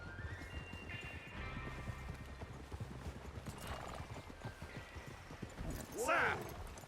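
Horse hooves clip-clop steadily at a walk on a mountain trail in the Red Dead Redemption video game, with a horse whinnying near the end and characters talking over the hoofbeats.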